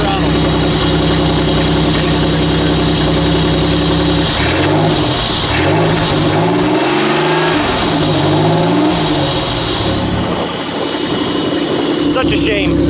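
A 1993 Buick Regal engine with a slight misfire idles, then revs up and down in uneven surges, loud and close, with someone talking over it at times.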